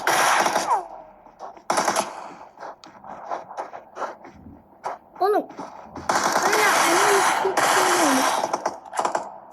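Bursts of automatic gunfire in PUBG Mobile, several rapid volleys of a few seconds each with short gaps between them, loud and close, mixed with other game effects and brief talk.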